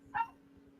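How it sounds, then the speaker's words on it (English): A single short, sharp dog bark sounds at moderate distance, followed by quiet low room noise. "that's him barking now"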